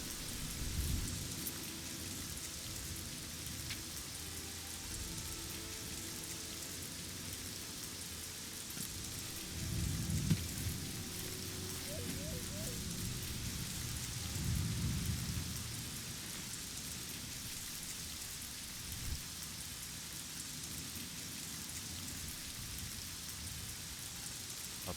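Heavy rain with thunder in the Fallout or Oblivion video game: a constant dense downpour, with low rumbling thunder swelling twice, around the middle and a few seconds later.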